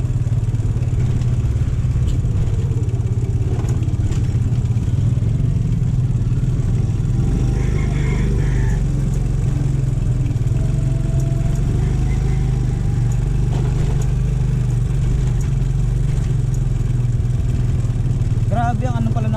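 A motorized three-wheeled tricycle engine drones loudly and steadily throughout a ride, with constant low rumble, rattling and wind buffeting, and brief faint clicks near the end.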